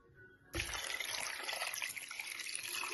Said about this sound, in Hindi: साथ ही इसमें 3 गिलास पानी डाल दें